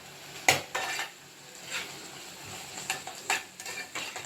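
Palak paneer curry being stirred in a pan, with irregular close metallic clinks and scrapes of a spoon against the pan over a faint sizzle, the louder strokes coming near the start and toward the end, and no talk.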